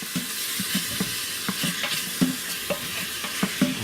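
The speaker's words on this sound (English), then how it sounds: "give everything a good stir" Mongolian beef ingredients stirred in an Instant Pot, a spoon scraping and clacking against the pot in an irregular rhythm over a soft sizzle, close and fairly quiet.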